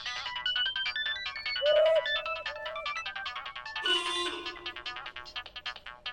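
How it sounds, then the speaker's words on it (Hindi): A phone ringtone plays a bright, repeating electronic melody, loud and close, with a sustained tone partway through, and no talk over it. "डीजीपी सर का फोन।"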